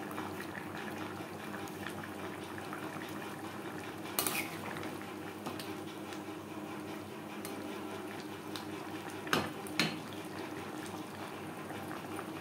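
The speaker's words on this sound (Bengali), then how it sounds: "চিকেনের সাথে টমেটো বেশ ভালো করে মিক্স করে দেব।" Chicken and sliced tomato mixed together in a pan for aloo chicken curry, a steady soft sizzle and stirring with a few sharp clinks of a utensil against the pan.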